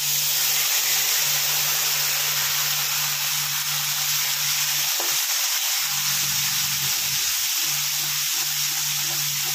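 Onion, garlic, ginger and chilli spice paste frying with white cumin in a pan for a Bengali doi katla curry, a steady loud sizzle and hiss throughout with occasional stirring scrapes, no talking.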